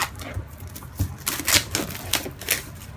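Cellophane wrap peeled off an iPad mini 2 box, a close series of crinkly, crackling tears and rustles in quick irregular bursts.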